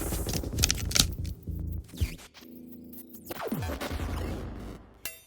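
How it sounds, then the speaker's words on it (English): A harsh, crackling electronic buzz with gritty static bursts, sweeping whines and crumbling distorted textures, shifting erratically for several seconds without speech. "create this weird, crumbling electronic buzz"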